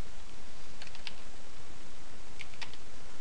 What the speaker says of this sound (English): make sure that you press tab before you start typing gcc